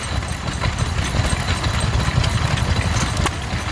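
An Amanco 2 1/4 hit-and-miss stationary engine runs at an outdoor steam rally, giving a steady, low, chuffing rhythm of quick, even beats with broadband background noise.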